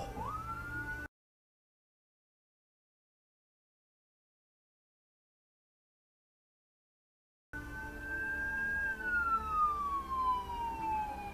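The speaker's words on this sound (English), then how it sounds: "The sedan driver just froze when he heard the ambulance" Ambulance siren in traffic, a loud wailing tone that sweeps up at the start, then after a long dead-silent gap returns and glides down in pitch over rumbling road noise.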